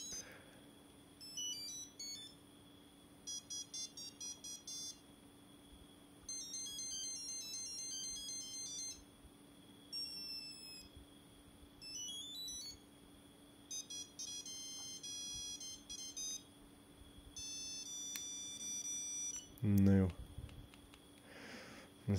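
A mobile phone plays a melodic electronic ringtone in repeated bursts of quick beeping notes, moderately close over a quiet background hum, then a brief handling noise near the end.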